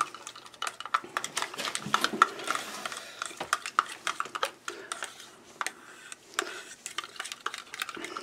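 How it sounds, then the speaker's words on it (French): Acrylic paint pigment being stirred with a spatula, giving a steady run of close, irregular scraping and clicking strokes against the container, fairly quiet and continuous throughout. "Fait que je le brasse avec ma spatule."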